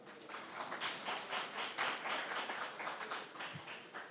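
Clapping from a small audience at a café philosophy gathering in Haiti, a soft, steady patter of hands for several seconds, fairly quiet and without talk.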